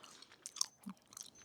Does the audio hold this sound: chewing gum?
yes